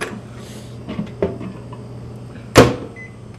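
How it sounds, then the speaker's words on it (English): Microwave oven handling while warming water: a low hum under a few clicks and knocks, then a sharp loud clunk of the door near the end followed by a faint beep. "So we're going to pop that in the microwave, let that water get warmed up."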